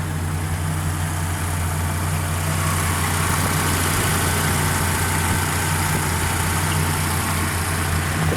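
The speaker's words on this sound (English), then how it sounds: "I can hear myself talk over it, and the engine's more pronounced than the exhaust still." A car with an aftermarket exhaust idles steadily and close by, a deep, even rumble with a slightly uneven idle, no voices present.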